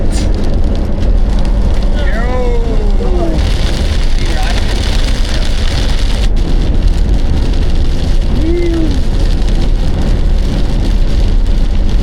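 Heavy storm rain drums steadily on a moving van, a constant dense patter over low road rumble, with a few faint squeaks in the background.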